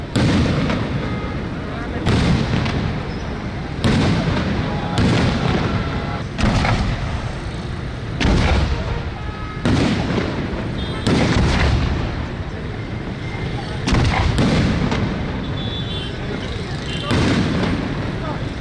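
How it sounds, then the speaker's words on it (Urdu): Fireworks for Saudi National Day boom in a steady series of heavy bursts, about one every couple of seconds, loud and rumbling under continuous crowd and street noise. "اس موقع پر شاندار آتش بازی کا مظاہرہ بھی کیا گیا"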